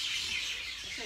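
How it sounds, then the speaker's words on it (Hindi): Birds chirp in trees at evening beside a newly built road in Pakistan, a dense, busy twittering chorus that carries on without a break for the whole moment, moderately loud and unaccompanied by speech. "चिड़िया की आवाज आ रही होनी तुम्हें चिड़िया वापस आ गई ने रुखां पर"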